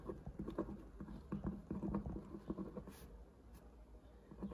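Soft scratching and light tapping of a pen moving across paper, close up and quiet, in short irregular strokes.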